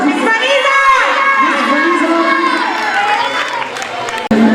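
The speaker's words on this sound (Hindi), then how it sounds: "पुरजोर तालियों में इस्तकबाल कीजिए मिस वनीज़ा" A school audience greets a teacher coming onto the stage with loud, sustained cheering and shouting, many voices rising and falling together, with clapping buried in the din.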